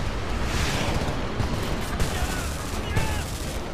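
Dense battle din from the Homefront video game: grenade explosions and rapid gunfire layered continuously, loud and close, with sharp blasts standing out around the middle and near the end.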